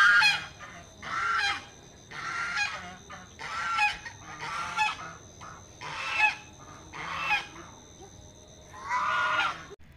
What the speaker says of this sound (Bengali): এই যে দেখুন রাজহাঁস কেমনভাবে সাউন্ড করছে